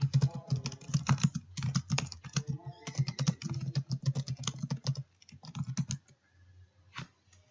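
Typing on a computer keyboard, rapid close clattering keystrokes in dense bursts that thin out and stop near the end, with no talk.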